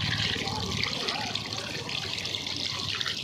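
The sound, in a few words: water running while washing hands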